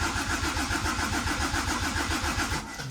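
A Mercedes 380SL roadster fitted with a swapped turbo diesel OM603 engine runs loudly and close, giving a steady, rough, rhythmic diesel clatter with no voices over it.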